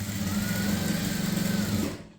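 Sewing machine running steadily while stitching a Tamil-style A-line kurti top, a continuous close whirring hum with rapid needle rhythm that stops near the end.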